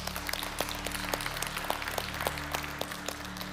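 Church congregation applauding the musicians at a Sunday service at Lindakirkja, a roomful of clapping with distinct individual claps standing out over a low steady hum.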